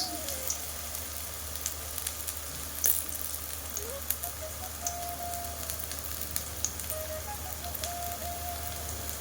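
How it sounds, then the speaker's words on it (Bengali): Stuffed pointed gourd frying in oil in a pan over a low flame, a steady, moderate crackling sizzle with scattered pops and spits throughout. "লো ফ্লেমে একদম ভেজে নেবে"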